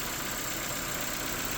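A 2015 Ford Fiesta 1.6L engine idling after a water pump repair, a steady, even mechanical hum with a constant high whine, close and unchanging throughout.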